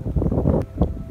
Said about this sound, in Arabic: كاين الريح بزاف هاد النهار.